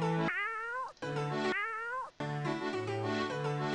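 Cats meow in the Oregon Trail 2 video game, with two long, rising-and-falling meows followed by a third lower, drawn-out cry, all loud and close with no talking.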